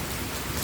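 Steady hiss of heavy rain mixed with hail pattering on surfaces during a storm in Bavaria, dense and continuous with no voices.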